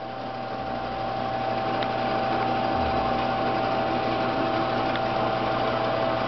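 A machine reams a hole perfectly round for the air cylinders of an RC jet B1 bomber model, producing a constant even mechanical whir with a steady tonal hum and faint ticking throughout.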